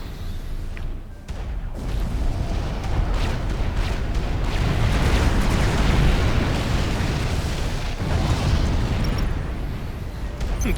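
Flak bursts crackle and boom continuously in a real-time strategy battle, a dense, rumbling barrage of overlapping explosions with no gaps.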